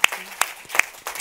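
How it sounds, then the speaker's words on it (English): A few sharp, scattered handclaps from a panel discussion audience on forest ownership and reforestation, welcoming a panelist; brief, close and thin rather than a full ovation. "A big applause for Anna Treskov."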